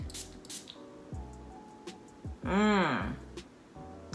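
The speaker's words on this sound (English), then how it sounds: "I'm gonna do the same thing and spray it on this card" A single brief hiss of perfume sprayed onto a card, close by, cutting through steady background music and faint voice.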